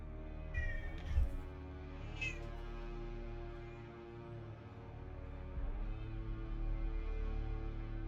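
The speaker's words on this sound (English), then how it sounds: "I don't know if you heard her meow." A pet cat meows indoors in a few short, soft calls near the start, over a steady low background hum.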